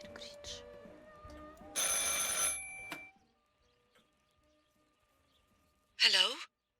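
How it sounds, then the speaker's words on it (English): A telephone rings in the video game Martha is Dead, with a loud burst of ringing, then a quiet gap and a second short burst, mixed with other in-game sounds. "I should pick up the phone but remain silent."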